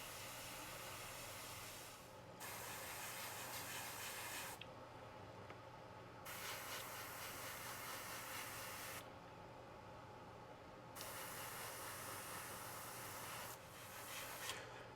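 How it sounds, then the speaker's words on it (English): An airbrush sprays thin white paint onto a 1/48 scale Hasegawa C.202 Folgore model plane in several bursts, each a soft, close hiss lasting a few seconds, with short quieter gaps between them. "And then I'm spraying the color 6 white."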